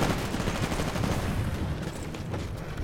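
Dense, continuous gunfire from a shotgun in the video game Titanfall fills the whole stretch, loud and close, with no talking over it.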